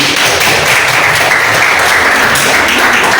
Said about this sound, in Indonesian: Masya Allah benar. Tepuk tangan.